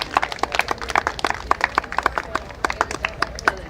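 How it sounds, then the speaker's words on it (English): Parents at a varsity softball parents' night get a round of applause from a small crowd, sharp, irregular claps, moderately close and lasting several seconds. "Let's give our parents a big round of applause."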